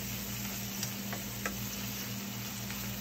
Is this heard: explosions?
no